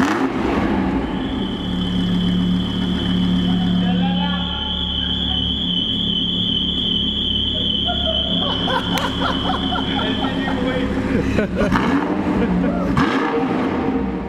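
An Audi R8 V10 engine revs up to around 3000–4000 rpm, a loud sustained mechanical roar with a rising whine, heard close by while people talk over it.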